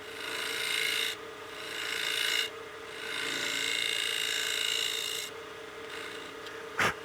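A nub on a wood-turned utility box is cut down on the lathe, giving loud, close rasping bursts of tool against spinning wood, three long passes separated by brief pauses, then a short sharp scrape at the end, with no talking.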